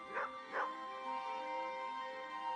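Dogs in a home give two short whimpering yips close together near the start, then a steady tonal whine continues faintly underneath.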